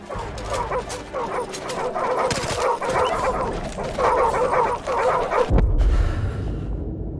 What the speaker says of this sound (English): It's a wild dog.